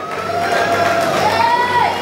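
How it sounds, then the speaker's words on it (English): A crowd at a Magnum brand council event cheers and whoops over a continuous roar of clapping, loud and sustained for a couple of seconds. "A round of applause, please"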